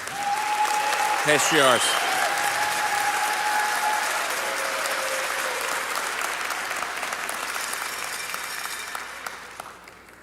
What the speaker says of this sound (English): So let's have another round of applause for our